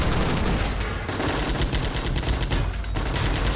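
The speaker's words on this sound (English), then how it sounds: "exchanging fire into the barricades which have been set up by the rebels" Dense gunfire exchange in Army Men of War, toy soldiers firing into burning rebel barricades in a city: continuous rattling machine-gun bursts and overlapping shots, loud and unbroken throughout.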